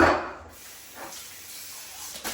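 Soaked green buckwheat being rinsed under running water, a soft steady hiss of flowing water with a brief burst at the start and a splash near the end.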